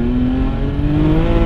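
An 830 WHP BMW 335i runway racer rolls on the throttle in second gear, its engine droning loud and close with a steadily rising pitch as it pulls hard, no voices.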